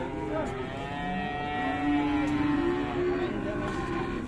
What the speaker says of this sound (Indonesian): teman-teman bisa mengamati juga sapi yang dibawa oleh Mas Priyo pada kesempatan pagi hari ini.